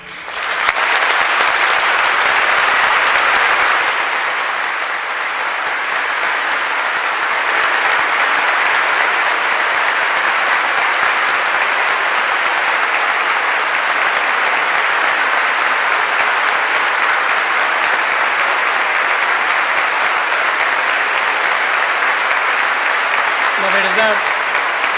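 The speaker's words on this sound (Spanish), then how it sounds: "5 minutos de ovación" A large audience gives a long standing ovation after a speech on gender ideology versus life and family, loud continuous clapping that holds steady for the full duration, with a brief voice near the end.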